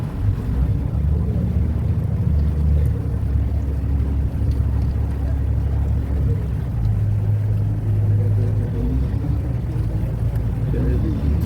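A passenger boat motors along the Vaikom backwaters in Kerala. Its engine drones as a steady, close, low rumble that runs unbroken throughout, with some wind buffeting the microphone.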